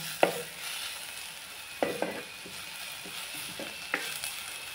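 Onions sauté in a pan for a red amaranth greens dish: a soft, steady sizzle under several clear scraping stir strokes, with no talk.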